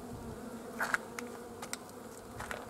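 Honeybee colony buzzing in a hive, a faint steady hum with a few individual bees droning briefly closer by.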